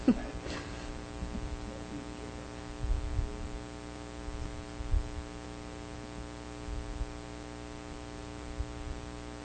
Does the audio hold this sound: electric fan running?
yes